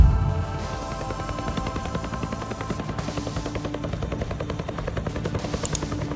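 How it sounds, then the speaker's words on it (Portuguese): An Apache helicopter is heard during an airstrike over Baghdad in low-quality footage, its rotor thudding in a fast, steady pulse over continuous engine whine, loud and sustained throughout. "É um vídeo simples de baixa qualidade de um helicóptero Apache envolvido em um ataque aéreo em Bagdá"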